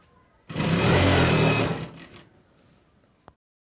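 A sewing machine stitches a long khimar in a short loud close burst of about a second and a half, then winds down, followed by a faint click.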